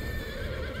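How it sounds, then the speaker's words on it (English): A horse in the video game Final Fantasy Origins lets out a steady, continuous synthesized neigh, loud and close throughout. "Ooh, a horsey."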